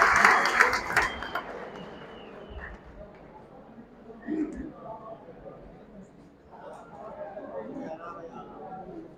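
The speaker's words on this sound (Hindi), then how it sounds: "सारे एक बार जोरदार तालियां मारो" Applause breaks out at a pigeon sports club gathering in Bishnah, Jammu, a burst of clapping loudest at the start that fades into crowd chatter and murmuring voices, with scattered claps returning later.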